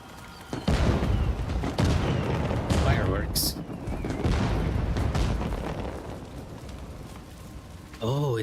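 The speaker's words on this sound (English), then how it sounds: "Fireworks." Fireworks in the video game Death Stranding 2: a dense run of loud booms and crackling bursts over several seconds, with whistling streaks, fading toward the end before one more burst, with voices mixed in.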